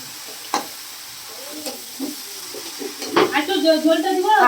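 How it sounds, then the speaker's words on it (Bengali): Coconut and jaggery filling with crushed cardamom stirred in a pan: a few soft scrapes at first, then a steady, growing sizzle with stirring in the last second and a half. "আমি কিন্তু এখন পুরটা রেডি করছি নারকেলের যে পুরটা হবে"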